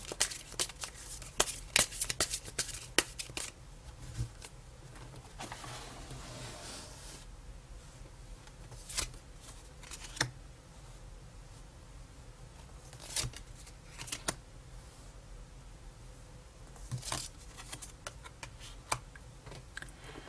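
A tarot deck is shuffled and cards are drawn during a love reading, giving soft, intermittent card clicks and riffles with quiet pauses between bursts.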